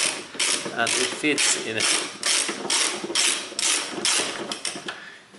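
A ratchet with a 10 mm socket works a bolt while a hand brake cable is being replaced, giving rapid repeated clicking bursts in a steady back-and-forth rhythm, close and loud.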